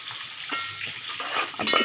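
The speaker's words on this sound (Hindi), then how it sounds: "मैं इसमें अदरक लहसुन का पेस्ट ऐड करूँगी।" Ginger garlic paste fries in hot oil for fish gravy, a close, crackling sizzle with scattered pops and a short louder burst near the end.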